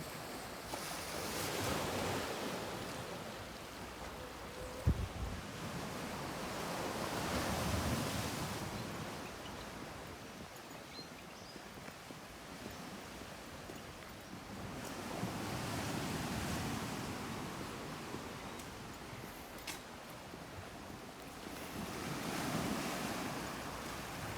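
Beach waves and surf at Holetown, St. James, Barbados at sunset, broad washes rolling in every several seconds with steady wind noise on the microphone.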